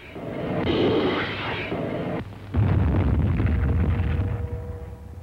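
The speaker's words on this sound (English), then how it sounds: "At Arawa, for the first time in a combat operation, rockets were used to soften up the beaches." Rockets explode on WWII Pacific landing beaches in archival footage, two heavy rumbling blasts one after the other, loud and booming with no talk.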